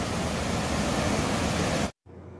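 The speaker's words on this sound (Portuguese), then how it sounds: "É uma cachoeira linda que tem 3 quedas" A waterfall with three drops pours in a dense, even roar of white water, loud and steady, cutting off abruptly near the end.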